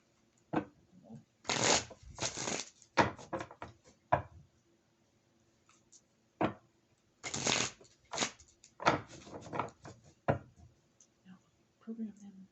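Tarot cards are shuffled in several quick riffling bursts separated by pauses, crisp and close, with faint handling noises between.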